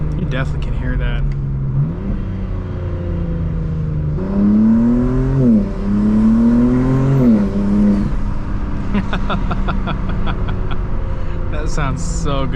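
A BMW M4 Competition S58 twin-turbo fitted with ARMS Motorsports intakes revs close and loud, engine pitch climbing and dropping in two surges, followed by sharp clicking turbo and blow-off chatter.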